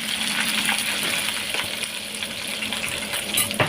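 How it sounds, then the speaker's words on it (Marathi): Mustard seeds crackle and pop in hot oil in a tempering pan with green chillies, curry leaves and asafoetida, cooked over low gas for Andhra-style dal rasam. A dense, steady sizzle with close, sharp pops and no voices. "आता ही राईसुद्धा तडतड झालेली आहे."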